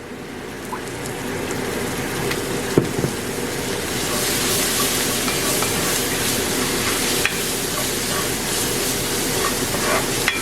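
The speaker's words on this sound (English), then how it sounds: "You fry up all those spices a little bit." Spices sizzle steadily in olive oil in a pan while cooking a mushroom tagine, a continuous close frying hiss with a few faint stirring clicks and no talking.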